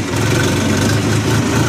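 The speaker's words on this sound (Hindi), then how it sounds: "ट्रैक्टर आगे से उठेगा भाई पूरी कोशिश कर रहा है ट्रैक्टर उठने की" A tractor engine runs steadily under load on a hill climb, a continuous close, loud low rumble with a throbbing beat and no break.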